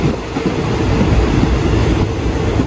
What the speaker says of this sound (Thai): รถไฟยาวเลยเห็นไหม เขากำลังจะไปแล้ว